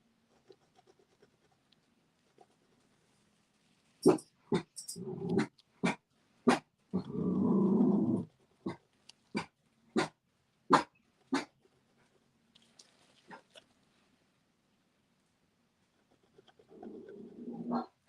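A dog growls and barks in short, sharp, spaced yips, with two longer rough growling stretches in between, fairly close in a quiet room, alone with no talk.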